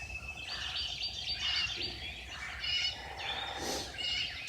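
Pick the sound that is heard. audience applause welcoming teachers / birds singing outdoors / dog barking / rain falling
birds singing outdoors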